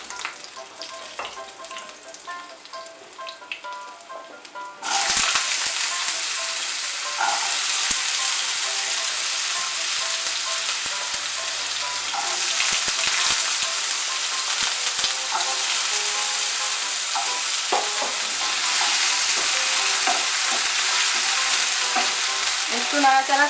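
Potatoes hit hot oil in a pan and sizzle loudly, the steady frying hiss broken by scraping stirs and clinks; quieter pan noises come before the sudden loud burst of sizzling.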